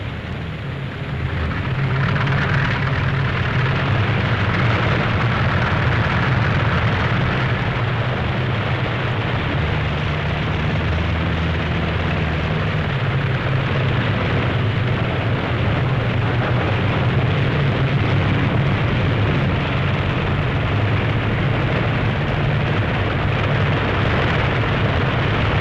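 Several P-47 Thunderbolt fighter planes roar down the runway on takeoff, a loud, steady piston-engine drone with deep rumbling throughout, no voices.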